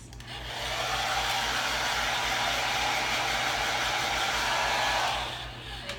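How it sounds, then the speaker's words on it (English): A powerful high-velocity pet dryer set to low blows a steady, loud rush of air over a Miniature Wirehaired Dachshund's legs for several seconds, starting and tapering off near the end, with a low hum underneath. "we take our mini dryer or our high velocity dryer set to low"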